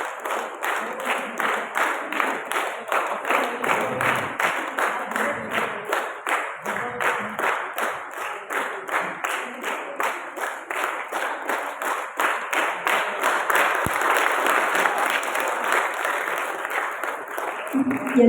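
An audience in Kumara Gandharva Hall, Belagavi, claps at an Onake Obavva Jayanti event, the sound settling into a rhythmic, evenly beating unison pulse. The clapping is loud and close, holds for a long stretch and builds slightly toward the end.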